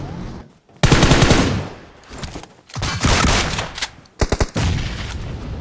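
Bursts of rapid gunfire from a first-person shooter video game played at 120 FPS, loud and close, with rattling automatic volleys separated by brief pauses and a few sharp quick shots.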